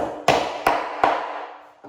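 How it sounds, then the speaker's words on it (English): Three sharp hammer taps driving a wood plug into a deck board under the Pro Plug hidden fastening system, evenly spaced and close, each ringing briefly, with a softer knock at the end. "Place that in and go ahead and take the hammer."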